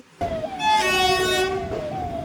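The Tebhaga Express, a Kolkata–Balurghat train, rolls along with a steady rumble while its horn sounds a long, loud blast, then a second shorter toot near the end.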